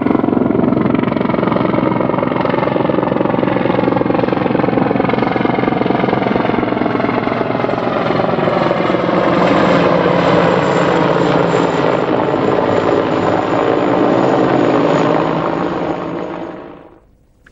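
Helicopters flying during a search for an unidentified flying object, a loud continuous rotor and engine drone that holds steady for many seconds before fading out at the end.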